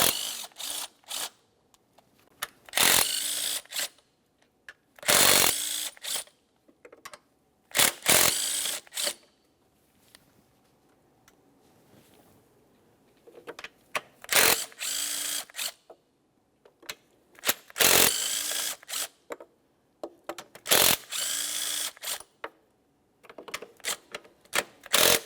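Quick bursts of ratchet clicking as mounting bolts come off the intake cover of a GMC Acadia 3.6L V6, close and crisp, separated by short quiet pauses.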